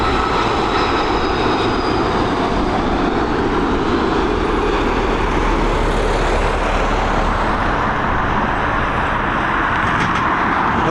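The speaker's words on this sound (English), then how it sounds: "we've got this Airbus A330 gliding in." An Airbus A330 airliner glides in to land at Dublin Airport, its engines producing a loud, steady broadband roar that holds throughout with no talking.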